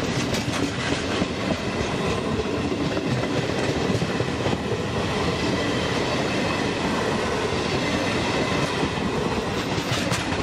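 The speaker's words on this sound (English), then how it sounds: "See the rear of the southbound regional clearing the crossover switches south of the station" A southbound regional train rolls over crossover switches south of San Pietro in Casale station, heard from trackside as a loud, continuous rumble with rhythmic wheel clatter and faint squeal, no voices.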